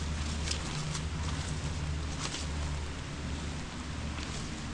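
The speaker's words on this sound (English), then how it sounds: "It's starting to rain harder." Rain falls through woods near Hartland, Maine, a steady, moderate patter on leaves and ground with a few scattered louder drops or footfalls, no voices.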